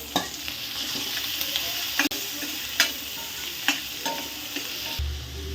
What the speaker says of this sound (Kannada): ಈಗ ಉಪ್ಪು ಹಾಕಿ ಚೆನ್ನಾಗಿ ಫ್ರೈ ಮಾಡ್ತಿದ್ದಾರೆ.